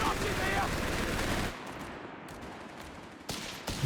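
Rifle and machine-gun fire crackles from windows in Company of Heroes 3, a dense burst of shots for the first second and a half, then quieter battle ambience before a few more cracks near the end.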